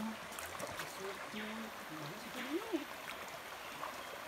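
A small stream trickles softly through dense forest, a low steady wash of water with faint gurgles, while voices talk quietly over it.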